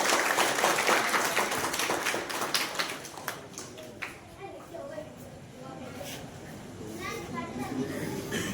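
An audience claps in applause at a formal gathering to welcome a speaker, with bursts of clapping over a murmur of voices and children's chatter that fades toward the end.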